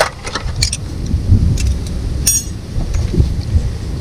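An old riding mower engine cranked over by its starter: a steady, close low rumble with rhythmic chugging pulses and a few light metallic clinks, no voices.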